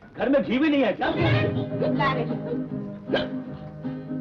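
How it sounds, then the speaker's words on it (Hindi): Sharp, short hiccups from a person with dry-roti trouble at a family meal, several abrupt gulping catches mixed in with lively talk. "घी की हिचकी।"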